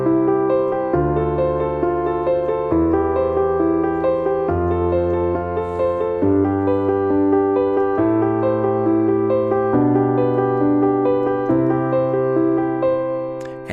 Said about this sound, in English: do this kind of triad movement where you start from the bottom and you hit one note at a time and go up and down that chord.